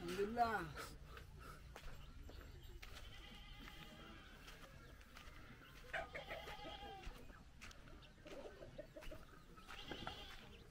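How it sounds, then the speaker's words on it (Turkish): Chickens cluck and a rooster calls in a village on Lombok, Indonesia, in scattered short bursts mixed with other farm animals, while people talk nearby over a low outdoor background. "Tavuklar öyle geziyor."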